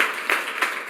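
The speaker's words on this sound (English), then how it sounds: "give yourselves a round of applause for being here with me today" Audience applause at a salon event in Fresno, California: a brief, dense wash of clapping from a room of people, fairly loud and steady.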